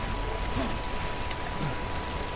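Heavy rain falling in the video game Death Stranding, a dense, steady hiss of downpour with no pauses, filling the scene at an even level.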